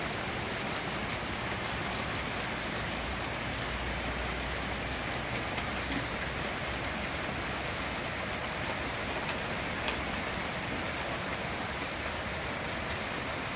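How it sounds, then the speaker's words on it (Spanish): Continuous, even rainfall over Modesto, California hisses steadily throughout, a soft wash of drops with no voices or other sounds. "Pues aquí feliz porque está lloviendo."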